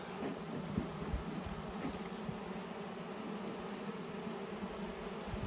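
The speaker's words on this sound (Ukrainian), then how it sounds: "Чуєте, як бджолки годуть?" Dense, continuous buzzing of many honeybees at the hive, a steady drone that holds for several seconds without pause, close and fairly even in loudness.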